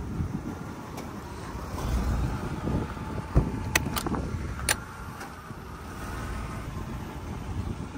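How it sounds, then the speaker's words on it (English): A 1993 Chevrolet Astro camper van's steady, low engine idle hums beneath broadband fan-like noise from the air conditioner, with a few brief clicks and high ticks; no talking. "you can hear the air conditioner properly engages, and the engine has a nice healthy idle to it"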